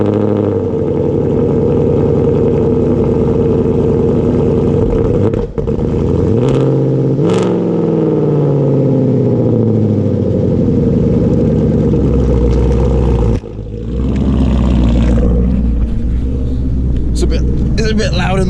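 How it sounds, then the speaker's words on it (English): A car engine revs loudly through a newly fitted aftermarket exhaust, with a sustained rumbling drone, rising and falling throttle sweeps, and a few sharp pauses, heard close up with little else audible. "for some of you who haven't heard my new exhaust"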